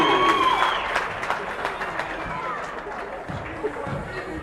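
Applause and crowd noise in a high school gym at a basketball playoff game, honoring a senior player after a milestone basket, sustained clapping and murmuring that is loudest at first and then eases slightly.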